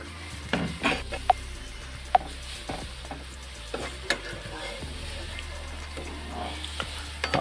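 Potatoes frying in a pan for a village-style potato fry, with an even sizzle under irregular spatula scrapes and sharp clinks against the pan, some of them close and loud.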